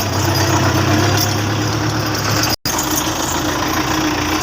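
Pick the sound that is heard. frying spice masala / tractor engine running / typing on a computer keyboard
tractor engine running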